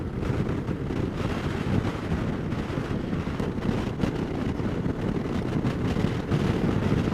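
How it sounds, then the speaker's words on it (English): Steady wind rumbles and buffets against the microphone while riding a Suzuki V-Strom 650 motorcycle on Highway 58, a loud, constant low roar with no voices. "it is super windy"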